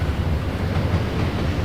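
A freight train runs along a line in the Trainz railway simulator game, giving a steady, moderately quiet low rumble with a faint wash of hiss and no talking.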